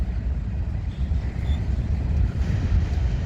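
A freight train of CP Rail, Sioux Line and Dakota, Minnesota and Eastern cars rolls past in Minneapolis, a loud, close, steady low rumble of wheels and cars with no voices.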